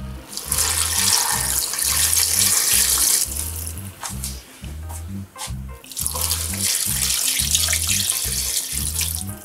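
Water runs from a tap into a pot of vegetables to cover them, a loud, steady rushing splash close by, with a brief dip in the flow midway before it resumes.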